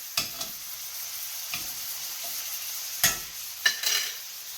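Chopped meat frying in a pan sizzles softly, with a few sharp scraping stirs of a utensil scattered across the few seconds, close and without talk.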